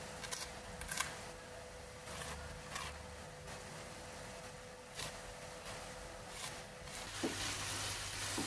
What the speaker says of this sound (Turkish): Neredeyse biberler ve soğanlar başladı artık kavrulmaya.